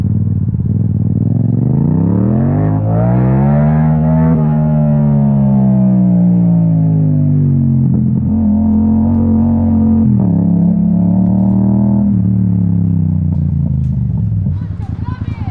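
A Yamaha MT-07 motorcycle fitted with an Akrapovic exhaust rumbles loud and close, the engine pitch rising and falling through several rev swells as it rides, then easing off near the end.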